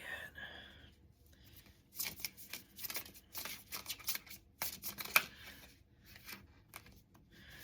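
Tarot cards being shuffled by hand close up, a run of quick riffling, papery bursts in uneven clusters with brief pauses, fairly quiet and without talk.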